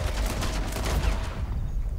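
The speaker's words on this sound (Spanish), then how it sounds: "Perdona, te he dado ya 4 tiros, por favor." Rapid volleys of gunfire from a Red Dead Online shootout, dense overlapping shots crackling for about a second and a half before thinning into a quieter, rumbling tail.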